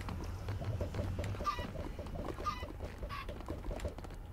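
Chicken clucking in the Minecraft video game, a few short clucks over a steady low background hum, moderately faint.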